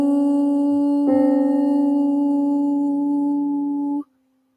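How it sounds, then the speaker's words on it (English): A singing voice holds a note sharp above C4 against a steady reference tone, the two sustained pitches clashing and beating dissonantly for about four seconds before stopping abruptly. "That's the sound of dissonance, of notes that don't belong together."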